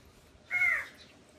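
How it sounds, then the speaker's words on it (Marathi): A crow gives one harsh, drawn-out caw at moderate distance on farmland, standing alone against a quiet outdoor background with no talking. "कावळा कसं गागतोय आज खूपच कावळा गागू राहील"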